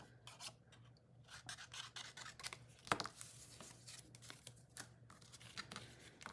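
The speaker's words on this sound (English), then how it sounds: "I don't need the whole tag, so I'm gonna cut a little bit of that off." Scissors trimming a paper tag for a scrapbook layout: faint, close, rasping snips and rubbing paper sounds in a quiet room, with a sharper cut near the middle.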